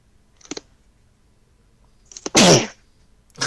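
A single loud, sharp sneeze, preceded by a couple of quiet clicks in an otherwise quiet room.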